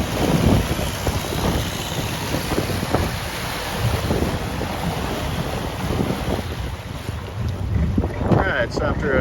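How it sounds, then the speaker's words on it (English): Longtail boat motor roaring steadily on open sea water in Thailand, loud and continuous with heavy wind buffeting the microphone and splashing waves throughout. "some blasting from the longtail motor"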